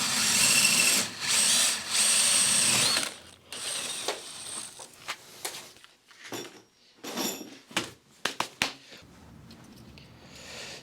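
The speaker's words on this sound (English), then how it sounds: "So I've just got to drill 2 holes." Bursts of a power drill whirring as it drills two holes, several short runs separated by pauses, followed by clicks and knocks of handling nearby.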